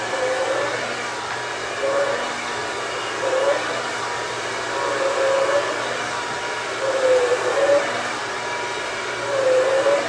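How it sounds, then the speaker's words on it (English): Hair dryer blowing on hair roots, a steady airy whoosh with a repeating faint whistling tone rising and falling as it is moved, running continuously without speech. "It really is the roots that I want to be blow dried down"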